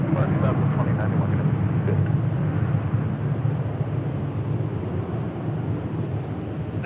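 A jet airliner rolls down runway 24 left at LAX on takeoff, a loud steady roar that holds across the whole stretch and eases only slightly toward the end.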